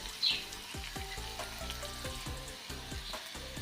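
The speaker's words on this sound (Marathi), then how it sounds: "छानपैकी आपण आता परतून घेऊया." Cowpea pods fry in a pan as a curry, with a soft sizzle underneath and repeated scraping, clattering stirring strokes at a steady rhythm, fairly quiet and close.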